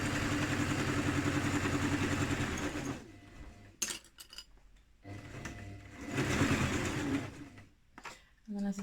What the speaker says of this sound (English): just make sure you're catching both those layers of fabric as you sew.